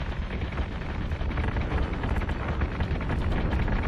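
Dense, continuous rumbling gunfire and blasts from a video game space battle against Cylon forces, loud and sustained with no clear gaps between shots.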